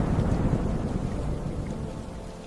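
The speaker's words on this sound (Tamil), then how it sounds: "முதல் மழை வந்தது." Thunder rumbles low and steady as the first rain of the season starts to fall, a broad, continuous wash of storm noise with no voices that eases slightly toward the end.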